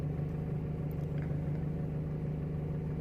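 A Timor car engine idles steadily at a stable RPM, giving a continuous low hum with an even tone throughout and no revving or voices.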